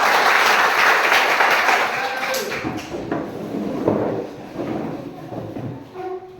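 A classroom of students bursts into applause during an economics lesson, a dense, loud wash of clapping at the start that thins and fades over several seconds, with a few voices mixed in.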